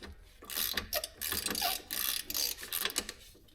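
A hand ratchet wrench breaks loose a rear strut bolt on a Subaru Crosstrek, giving rapid repeated clicking bursts of the pawl in several close, loud strokes with short pauses between them.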